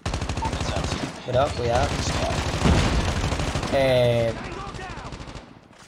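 Sustained automatic weapon fire in Call of Duty Mobile, rapid loud bursts running nearly the whole time, with excited voices talking over the shooting.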